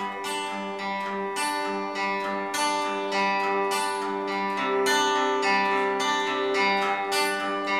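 Fingerstyle acoustic guitar plays a repeating plucked pattern, the thumb alternating with split fingers, each note ringing clearly and evenly spaced with no voices over it.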